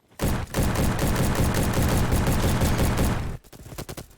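An FAL rifle fires in a Roblox first-person shooter, a loud, rapid, steady stream of shots for about three seconds, then stopping abruptly and giving way to a few quieter shots and clicks.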